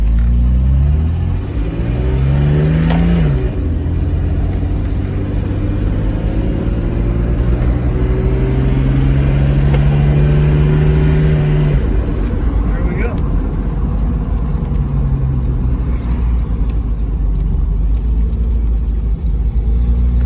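A 1971 Mercedes 280 SL pulls away from a stop in second gear, its engine droning loud from inside the car with rising and falling pitch as it accelerates, over continuous road rumble, with someone talking throughout.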